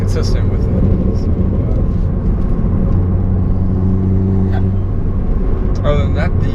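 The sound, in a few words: Dodge Dart car driving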